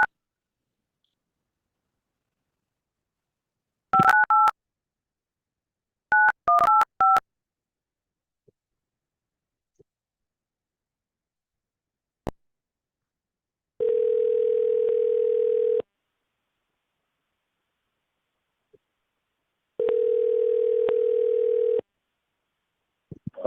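Telephone keypad tones as a number is dialed, two quick bursts of DTMF beeps, followed by isolated clicks and two long steady ringback tones separated by silence, loud and close on the line.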